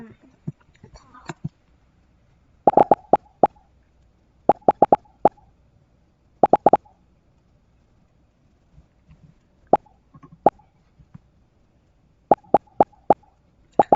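Short pop sound effects from a Scratch fish-and-shark video game fire in quick clusters of two to four crisp plops, separated by near silence and faint background noise.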